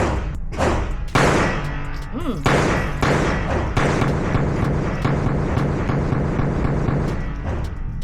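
Shots fired from a .22 pistol, a SIG P322 or Taurus TX22, at a range: a string of sharp cracks at an irregular pace, close and loud, with some rumble and movement between shots.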